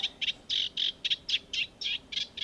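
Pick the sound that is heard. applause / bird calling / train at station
bird calling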